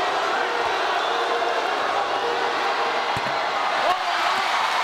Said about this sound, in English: The crowd letting him hear about it.